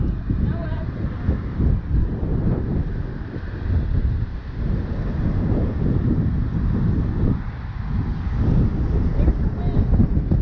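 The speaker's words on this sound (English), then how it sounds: "There's the wind." Strong wind buffeting a microphone on a moving bicycle while riding downhill, a continuous loud, low rumbling roar that swells and eases, with no breaks.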